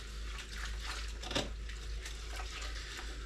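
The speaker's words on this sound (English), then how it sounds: "There's your running water." Water running steadily from a garden hose during a home brew day, a continuous hissing splash with no break and no talk.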